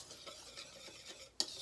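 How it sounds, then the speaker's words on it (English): Whisk scraping and clinking rhythmically through muffin batter ingredients in a bowl, steady repeated strokes close by, with a sharper clink near the end. "So I'm gonna whisk all of our ingredients until they are finely"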